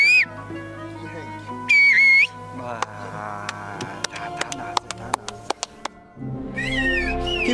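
Two bursts of high, warbling whistled-language greeting from Kuşköy villagers, one brief near the middle and one longer at the end, with music and sharp clicks playing between them.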